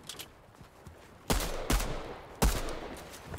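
Pistol gunfire rings out in three loud, sharp reports, each trailing a brief echo, with quiet background before the first shot.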